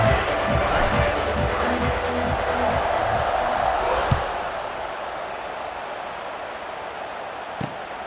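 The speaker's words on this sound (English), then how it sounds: "this crowd is buzzing after that last score" A stadium crowd buzzes in the video game College Football 26, a dense, steady roar heard with rhythmic thumps early on that fade out, while a commentator talks over it.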